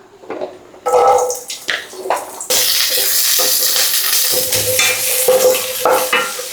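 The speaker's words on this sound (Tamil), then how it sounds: "நெக்ஸ்ட்டு நம்ம சின்ன வெங்காயம் ஃப்ரை பண்ணிக்கலாம்" Small shallots frying in oil in a heated pan, bursts of loud close sizzling and stirring clatter after a quieter start, running continuously without speech.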